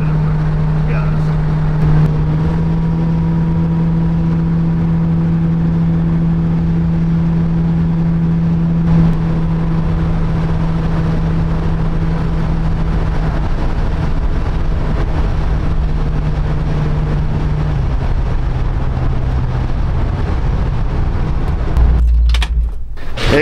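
A 1966 Ford Mustang cruising straight down a road, heard from inside as a steady engine drone with road and wind rumble, a low hum running throughout and a brief disturbance at the end.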